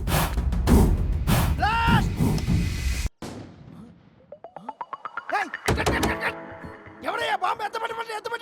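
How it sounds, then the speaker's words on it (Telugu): Special effects bomb blast on a film set: loud broadband bursts with heavy thumps that cut off abruptly, followed by voices and tonal sounds. "భయ్యా ఏంటా బాంబు? ఇంపాక్ట్ సరిపోలేదు, ఇంటెన్సిటీ పెంచి."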